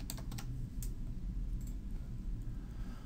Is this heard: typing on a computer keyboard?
yes